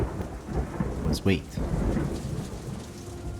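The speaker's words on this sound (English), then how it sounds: "But there was one problem. Rain." Rain falls steadily over a wooded stump, with a sharp close thunder crack rumbling through the middle of the steady downpour.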